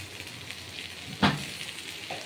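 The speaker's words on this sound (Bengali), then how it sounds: "2 মিনিট এইরকমভাবে নাড়াচাড়া করতে করতে ভাজা হয়ে যাবে।" Bitter gourd and potato stir-frying in a pan, a steady faint sizzle with one sharp louder scrape or clatter of the spatula partway through and a smaller one near the end.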